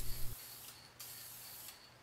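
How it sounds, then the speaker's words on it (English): Automotive paint and clear coat is sprayed onto a pre-primed passenger side view mirror for a 2003 Chevy Impala, giving two short bursts of hissing spray after a brief low thump at the start. "I'm here again with my friend DLB, who is spray painting it down with an automotive combo of paint and clear coat."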